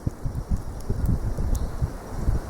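Wind gusts buffet the microphone outdoors at old church ruins, a low, uneven rumble that rises and falls in close, blustery pulses throughout.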